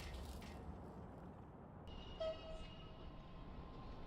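Trains rolling past in the Soviet-era city-building game Workers & Resources: Soviet Republic, a low steady rumble with a brief horn-like tone partway through, heard faintly at a distance.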